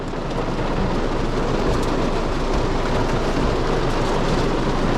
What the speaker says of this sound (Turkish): Abi şu an araç içinde yağmur sesinden kendi sesimi duyamıyorum.